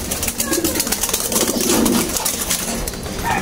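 A breeder pigeon coos in low, rolling phrases close by, over a busy, noisy background.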